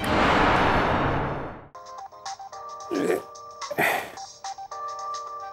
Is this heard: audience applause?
no